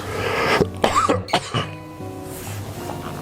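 A person coughs and clears the throat several times in quick succession, close and fairly loud, with a short burst of vocal sound between the coughs.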